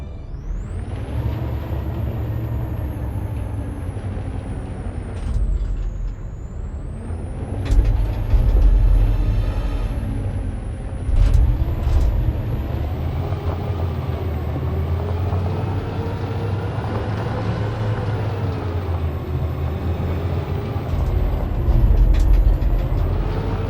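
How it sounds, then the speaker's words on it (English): A heavy truck engine rumbles and whines through gear changes, with sharp hissing bursts of air brakes, loud and close, in the Detroit: Become Human video game; no voices. "We need to find a truck to ram the storefront."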